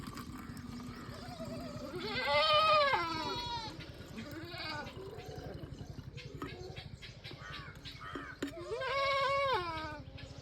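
A goat with diarrhea bleats loudly up close in two long wavering calls and a shorter one between them, over a steady low background.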